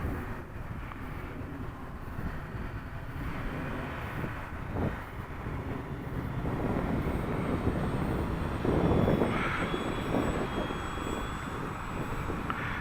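A SuperEZ RC model airplane flies upwind in moderate wind with its engine held near 90% throttle, giving a steady, continuous droning whine over rushing wind noise that swells slightly midway.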